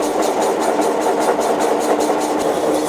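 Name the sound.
pulverizer grinding wheels rolling together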